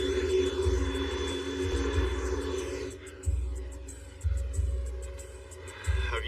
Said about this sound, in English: The plane is now less than 30 seconds from the ground.